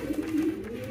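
Pigeons coo softly at close range, a low rounded warbling call that rises and falls once over a faint background hum.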